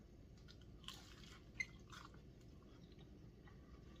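Close, quiet chewing of a mustard and ketchup tortilla cheeseburger pocket with pickles, onions and cheese, soft crunchy bites and moist squishing, with a couple of slightly sharper crunches early on.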